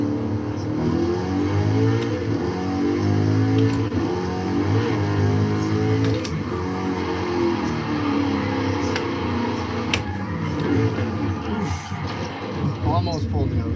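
A sports car engine in the video game Forza Horizon 5 holds a steady, throaty rev with a constant low rumble while someone talks over it.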